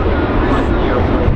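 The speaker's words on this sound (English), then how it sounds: "this airplane is equipped with Rolls-Royce Trent XWB engines, which have been specifically developed for the A350" An Airbus A350 with Rolls-Royce Trent XWB engines flying during an airshow demo at EAA AirVenture Oshkosh, a loud steady jet roar that fills the whole moment without pause.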